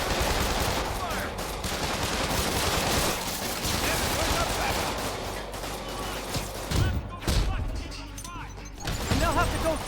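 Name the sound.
gunfire in the Spider-Man video game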